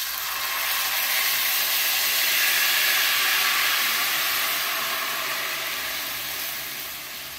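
Masa and chili mixture frying in a pan, a steady, loud, broad hiss of sizzling that holds evenly throughout and eases slightly near the end, with no talking.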